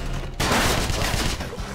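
Gunfire from a first-person shooter set in a Nazi-era war, a sudden loud burst of shots erupting after a brief quiet moment and continuing as sustained rapid fire with no talk.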